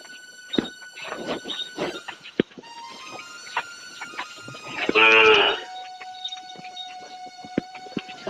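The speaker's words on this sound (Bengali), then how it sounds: "আমি গরুগুলো ওই পাশে নিয়ে যাই।" Village cows low several times, with one loud, drawn-out moo standing out near the middle among shorter calls and scattered rustling and knocks from the farmyard, all fairly close.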